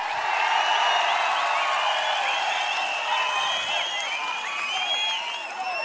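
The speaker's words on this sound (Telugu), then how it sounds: "గట్టిగా చప్పట్లు కొట్టండి" Crowd at a political rally in Punganur, a continuous, fairly distant wash of clapping and cheering that holds steady throughout, with no single voice standing out.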